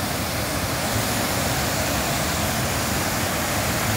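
Tinuy-an Falls roars as a steady, dense wash of falling water, loud and unbroken from start to finish with no voices.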